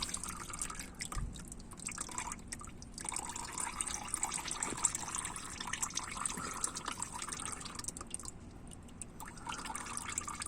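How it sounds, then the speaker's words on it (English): Motor oil dripping from a Ford truck's oil filter area during an oil change, a faint intermittent trickle and patter of liquid over quiet garage background noise. "Just gonna let it drip."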